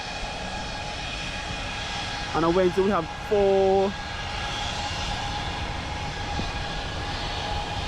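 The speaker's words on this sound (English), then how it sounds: "we have JetBlue now taxiing on the runway" A JetBlue airliner taxis on an airport runway, giving a steady, distant jet-engine whine and rumble that runs throughout, with a person talking briefly over it partway through.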